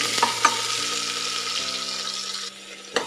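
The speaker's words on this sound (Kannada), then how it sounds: "ಸ್ವಲ್ಪ ಈರುಳ್ಳಿ ಬ್ರೌನ್ ಕಲರ್ ಬರೋವರೆಗೂ ನಾವು ಫ್ರೈ ಮಾಡ್ಕೊಳ್ಳೋಣ" Onion frying in hot oil with whole spices in a pan, a steady close sizzle with a few sharp stirring knocks and a faint hum, with no voices.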